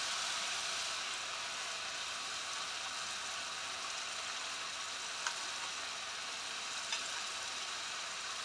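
Cashews, poppy seeds and fennel seeds fry in a wok with a steady, soft hiss and sizzle, broadband and even throughout, with a couple of faint ticks near the end and no talking.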